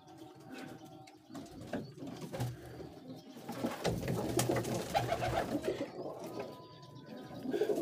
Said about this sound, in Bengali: এই যে আমার সুন্দর রেসার কবুতর দেখেন, অনেক সুন্দর কবুতর।